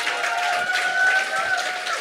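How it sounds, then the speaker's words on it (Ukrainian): Steady audience applause fills a stand-up comedy charity evening as Taras Stadnytskyi is welcomed onstage for an auction, an even, dense wash of clapping throughout. "Оплески Тарасу, будь ласка."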